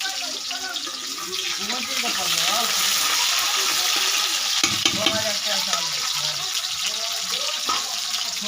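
Cumin seeds and onion frying in a pan give a steady, close sizzle that holds throughout, with occasional stirring scrapes and faint background voices mixed underneath.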